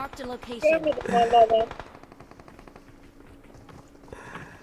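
Rapid automatic gunfire rings out in the mobile battle-royale game PUBG Mobile, a string of sharp repeated shots continuing under loud laughing and talking voices, then fading to sparser distant shots.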